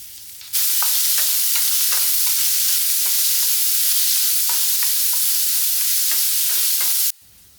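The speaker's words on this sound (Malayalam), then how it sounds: "വെളിച്ചെണ്ണ ചൂടായി വരുന്നതോടുകൂടി ഇതാ നമുക്ക് ഇനി ഉള്ളിയും പച്ചമുളകും വഴറ്റിയെടുക്കാം" Onions and green chillies sautéing in hot coconut oil give a steady, close sizzle, broken by regular soft scrapes of stirring, with no voices.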